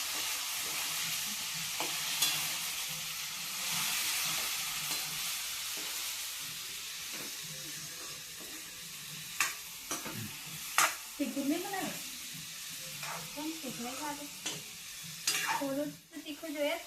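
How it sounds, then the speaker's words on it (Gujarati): Vegetables sizzle in hot oil in a home kitchen pan during tempering, frying steadily at close range, with a spoon stirring them in scattered scrapes and clinks. "શાક વઘારી દીધું છે."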